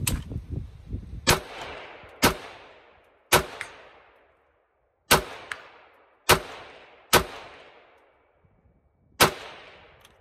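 Seven sharp, loud gunshots from a Faxon 11.5-inch rifle firing 55-grain ammunition, spaced irregularly about a second apart, each with a short echoing decay, and no talking in between.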